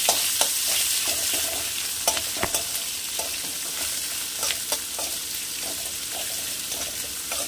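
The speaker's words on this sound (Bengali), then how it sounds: "এর মধ্যে দিয়ে দিলাম কাটা পেঁয়াজ। এবার পেঁয়াজটা ভাজতে হবে।" Chopped onions fry in hot oil with cumin, fenugreek and dried red chillies for Punjabi kadhi, a continuous sizzle broken by repeated close spatula scrapes and stirring clicks.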